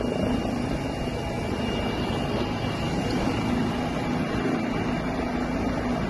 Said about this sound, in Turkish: Teleferikte mahsur kalanları kurtarmak için helikopterler havalandı.